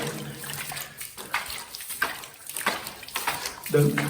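Water splashes continuously onto fresh concrete to cure it at a village house build in Africa, with irregular gushing bursts close by while someone talks over it.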